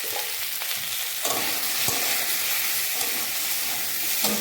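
Chilli powder and cumin-pepper powder fry in a pan, a dense close sizzle with repeated scraping stirs and spatula knocks against the metal.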